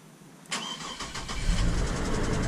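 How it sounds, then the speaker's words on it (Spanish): A 2007 Chevrolet Trailblazer engine cranks and catches after a quiet moment, then settles into a steady, rising idle rumble close by, with no voices. "Pero ahorita lo voy a prender para ver cómo se escucha."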